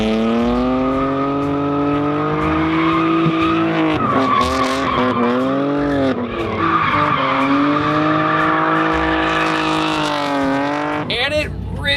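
A budget BMW E36 fitted with an angle kit makes a drifting test pass, its engine loud and sustained with rising and falling revs and long tire squeal throughout, ending in a sharp burst of noise.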